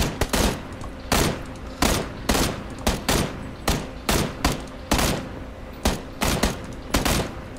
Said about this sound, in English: There's people shooting from the west